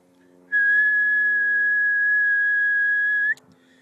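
A single steady high-pitched human whistle is blown into a ham radio microphone while tuning a vertical Buddipole antenna on 20 meters, holding one pure tone for nearly three seconds over a faint background hum.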